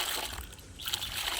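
Water sloshes and splashes in a bucket as SAAF fungicide is stirred into it by hand, a close, continuous swishing and splattering.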